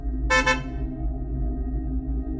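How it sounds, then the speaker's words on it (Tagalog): A van's horn gives a short honk, a doubled burst lasting about a quarter second, loud and close over a steady low engine rumble on a road trip in Bicol. "bumusina ako."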